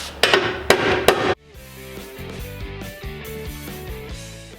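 Three sharp metallic strikes ring out close by as a hammer straightens a Kia Stinger GTS fender structure, followed by quieter rhythmic tapping against sheet metal.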